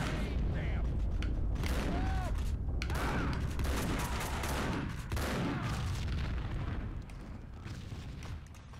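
An explosion in the video game Max Payne: a heavy blast and rumbling booms roll through a dense, noisy barrage of gunfire-like cracks, loud throughout and easing slightly near the end.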